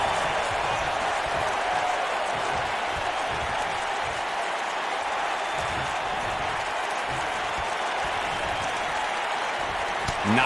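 A steady, dense roar of a wrestling arena crowd cheering and applauding in WWE 2K19 runs continuously at an even level, with a commentator talking over it.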